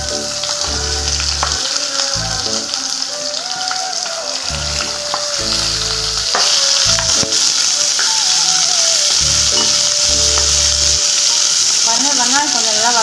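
Onion and garlic fry in hot oil with chana dal and dried chillies for chayote chutney, giving a loud constant sizzle under a background of tonal music, with no speech.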